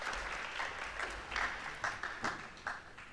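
At a school presentation ceremony, the audience applauds a departing student captain as he leaves the stage, a steady wash of many hands with a few sharper individual claps standing out near the end, moderately distant.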